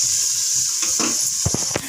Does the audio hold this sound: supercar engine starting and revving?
no